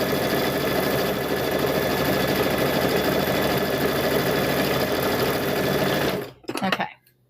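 A home sewing machine stitches quilt squares in one long, steady, loud mechanical whir for about six seconds, then stops abruptly, leaving a couple of brief handling clicks.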